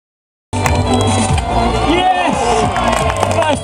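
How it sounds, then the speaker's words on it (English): A crowd cheers and shouts at an urban trials bike event in London, a loud, continuous roar of voices and whoops filling the space after a brief silent start. "let's give them both a big round of applause. Get the noise going."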